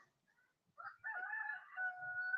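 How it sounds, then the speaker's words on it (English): A Leghorn rooster crows once at a goat farm, a clear mid-distance cock-a-doodle-doo that rises and holds before trailing off, with quiet surroundings and no talk. "Yes, Leghorn, cock-a-doodle-doo."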